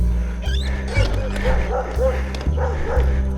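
An aggressive dog barks in loud, rapid bursts, roughly every half second, close by, with yips and whimpering tones mixed in over a low rumbling background while a rider is chased.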